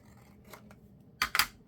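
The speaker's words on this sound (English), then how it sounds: "Okay, so let's go on and cut this piece." Scissors cut paper for a junk journal pocket, with a couple of soft snips followed by two louder close crisp cuts near the end in a quiet room.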